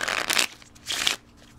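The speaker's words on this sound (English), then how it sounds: "Lots of riffle shuffles." Playing cards being riffle shuffled, two quick crisp riffling bursts close by, each about half a second long, with a short pause between them.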